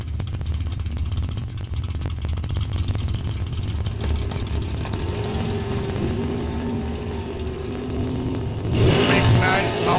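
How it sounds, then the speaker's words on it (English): Drag racing cars, including a Camaro, launch down a dragway strip with loud continuous engine roar, rising revs near the end, while an announcer talks over it. "Tony had the tree, but Jacob gets the green"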